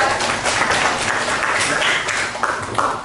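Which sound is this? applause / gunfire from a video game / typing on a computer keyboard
applause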